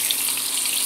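Lamb chops fry in a pan with a steady, close hiss of sizzling fat and moisture, even and continuous with no talking.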